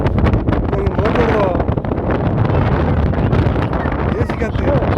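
Strong wind at Manapad lighthouse buffets the microphone in a loud, continuous roar with rough gusty texture, and voices are faintly mixed in underneath.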